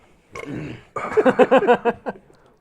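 A single loud, close burp during a craft beer tasting, starting as a rough gust and then stretching into a long, pulsing croak before it fades.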